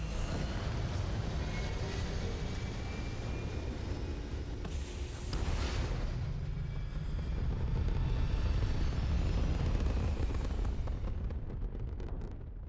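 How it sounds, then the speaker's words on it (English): Spaceship liftoff in the video game Starfield: a loud, sustained engine roar with deep rumble throughout, swelling into a bright blasting burst midway, then continuing as a steady powerful thrust. "liftoff."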